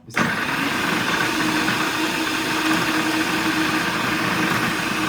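An electric vegetable chopper motor cutting bitter gourd, starting abruptly and then running as a steady, loud whirring drone for several seconds with no pauses.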